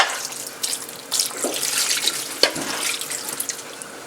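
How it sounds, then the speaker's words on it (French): Water pours into a pot of lamb biryani in a close, splashing stream, with gurgles and small drips over about four seconds, and no voices. "J'ajoute l'eau."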